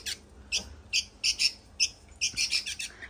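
A pet bird kept indoors gives a series of short, bright chirps and squawks in irregular bursts, fairly close and clear, with no talking over them.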